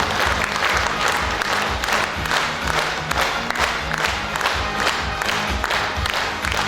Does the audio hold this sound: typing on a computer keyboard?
no